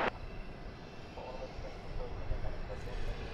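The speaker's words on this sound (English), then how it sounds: "It's an Airbus A321." An American Airlines Airbus A321 jet at Dallas Fort Worth Airport gives a steady, even broadband roar that holds for the whole stretch, fairly distant and without distinct peaks.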